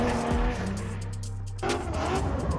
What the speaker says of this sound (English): The tandem drifting has got to be my favorite.